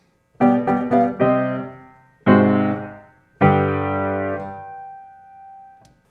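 Several piano chords from Beethoven's Fifth Symphony are struck, a quick cluster and then two held ones, with a single high note lingering after the others fade.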